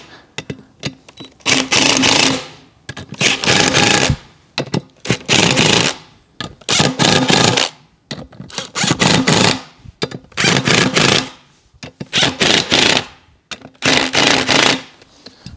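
On a Can-Am Renegade XXC 1000R being fitted with Maxxis Bighorn tires, a power tool snugs up the wheel nuts in about six loud, separate bursts of one to two seconds, with short pauses between them.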